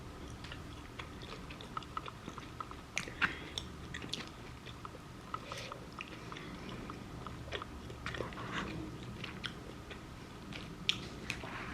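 Hawaiian BBQ chicken katsu and macaroni salad being eaten up close, with steady soft bites and chewing, a few crisp crunches and moist squishes recurring through a quiet background.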